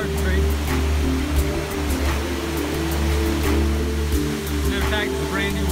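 A new waterfall formed by a storm-swollen creek near an A-frame cabin, a loud, continuous rushing roar of falling water with a low rumble underneath, close by and steady throughout.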